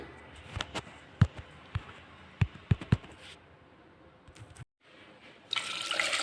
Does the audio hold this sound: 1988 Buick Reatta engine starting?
no